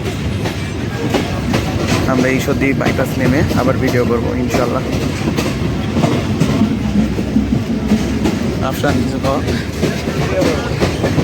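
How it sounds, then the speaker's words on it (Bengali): Dhalarchar Express intercity train with vacuum-brake coaches rumbling and rattling steadily while running, a continuous loud rolling clatter from inside the dark coach, with someone talking over it. "খুব কাঁপছে ট্রেন, মানে ভ্যাকুয়াম র্যাকের ট্রেন খুব কাঁপাকাঁপি করে"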